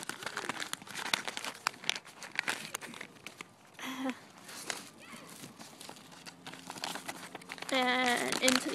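A paper letter being folded up before going into an envelope, crisp crinkling and creasing sounds in short bursts, close by, with a voice speaking quietly around them.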